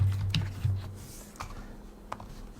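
Quiet typing on a computer keyboard, a few soft scattered key taps heard alone at low level over faint background hum.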